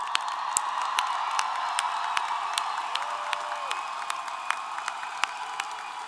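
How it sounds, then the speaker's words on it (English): A university commencement crowd gives the standing graduates a round of applause, steady dense clapping with scattered sharp claps and a few distant whoops, heard from within the hall. "let's give you a big round of applause."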